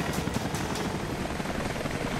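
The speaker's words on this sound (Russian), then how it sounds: "Вертолеты летают всякие." A helicopter passes overhead in the video game Rise of the Tomb Raider, making a steady, fairly loud rotor roar with a faint fluttering pulse that runs without a break through the whole moment.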